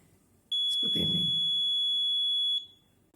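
A buzzer on an Arduino-based fire detector sounds one steady, piercing high beep for about two seconds, close and loud, with a brief low thump partway through.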